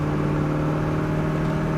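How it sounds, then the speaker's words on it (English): A 1968 Plymouth GTX engine drones steadily as the car accelerates through the gears, a close, continuous mid-pitched hum with a strong low tone and no talk. "Going through the gears here."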